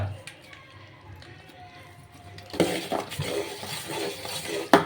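A spoon scrapes and stirs jaggery syrup for ariselu in a metal pan. At first it is faint under a voice, then it turns into louder clattering strokes against the pan and a sharp clink at the end.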